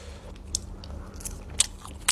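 Raw beef soi ju being chewed, with a few faint crisp bites and wet chewing sounds close to the mouth, no talking.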